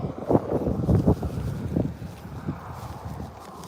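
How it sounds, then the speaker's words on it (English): Strong outdoor wind buffets the microphone in low, rumbling gusts, heaviest early on and easing slightly toward the end, with no voices over it. "It's super windy."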